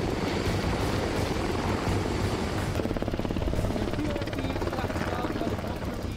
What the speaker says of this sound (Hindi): ये अमेरिका का CH-53 हेलीकॉप्टर है जिसमें से अमेरिकी मरीन समंदर के किनारे उतरते हैं।